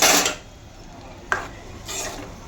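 A spoon stirs tomato chutney in a pan, giving a few scraping, rasping strokes against the metal, close and fairly loud, separated by short pauses.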